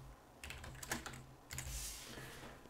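Someone types a short burst on a computer keyboard, quick close clicking keystrokes in a quiet room with a brief pause mid-way.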